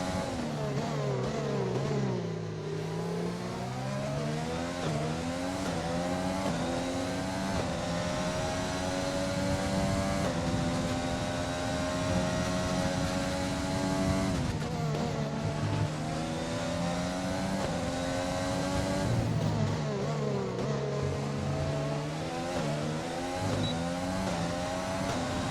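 Formula 1 race cars in the F1 2020 video game at the USA circuit, engines screaming continuously with rising and falling revs as cars accelerate and shift, several cars audible together, loud and steady throughout.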